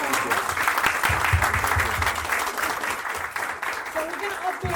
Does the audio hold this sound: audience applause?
yes